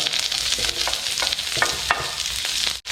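Bell pepper and onion stir-fried in a hot wok, a steady close sizzle with repeated scraping and tossing strokes throughout, no voices.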